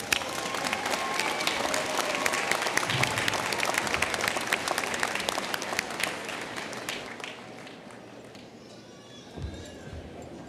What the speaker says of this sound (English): Please join me in applauding the graduates